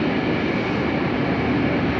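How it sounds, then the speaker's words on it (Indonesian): A KRL commuter train bound for Kampung Bandan pulls into a station, giving a steady, loud rail rumble and hiss that fills the whole stretch without a break. "ini yang terakhir dia akan datang KRL Kampung Bandan"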